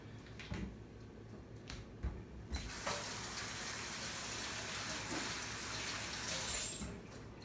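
Water drains into a kitchen sink while chicken noodle soup for ramen is being prepared, a few soft knocks followed by a steady close rush of water lasting several seconds before it cuts off.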